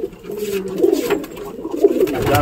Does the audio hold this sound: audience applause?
no